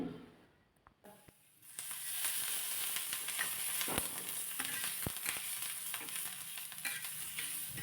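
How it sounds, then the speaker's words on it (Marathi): Chilli pieces roasting on a flat griddle pan, starting with a few quiet taps before a loud, steady sizzle and hiss that carries on, broken by occasional stirring clicks. "आता याच तव्यामध्ये मिरची भाजून घ्यायची तर मिरचीचे तुकडे घातलेत आणि थोडंसं अगोदर हे परतून घ्यायचं"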